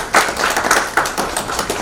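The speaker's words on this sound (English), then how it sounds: "Again, we can clap." An audience at a sustainable development talk claps, a brisk burst of scattered hand claps, fairly close and loud, with no talking over it.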